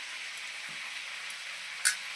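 Chilli chicken frying in a pan gives a steady, soft sizzle that hisses continuously, with one brief sharper crackle near the end and no voices over it.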